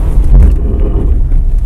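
A 2007 Audi A4 B7 with the 3.2-litre engine, driven on an icy road, gives a loud, close, continuous deep engine rumble with no talking.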